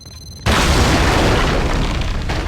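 After a short quiet moment, a sudden loud booming explosion erupts in the video game Max Payne 2, and its deep rumbling roar fills the rest of the clip.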